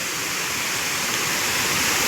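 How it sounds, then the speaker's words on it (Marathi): Large waterfall pouring along a river bend in flood, a steady broadband roar of rushing water filling the whole span, loud and close with no voices. "आता मात्र मोठमोठं धबधबा सुरुवात झाली आपली"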